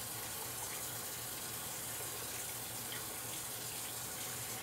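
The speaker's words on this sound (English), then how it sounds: "first I'm gonna wash my hands." Water runs steadily from a tap during handwashing, a constant faint gushing stream heard alone without pauses.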